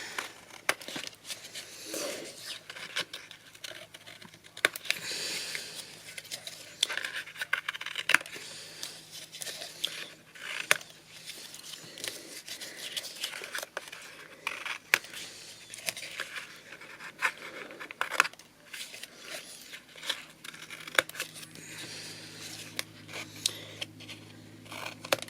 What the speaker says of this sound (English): I just cut it off at an angle and make it a little neat and tidier.